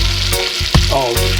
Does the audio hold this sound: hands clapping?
no